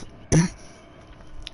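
A single short, sharp cough from a sick person, one near, loud burst standing out against a quiet background.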